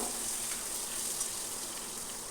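Chopped tomatoes frying in hot oil in a pan while being stirred for a Bengali curry, giving a steady, soft hissing sizzle with faint scraping, close and uninterrupted.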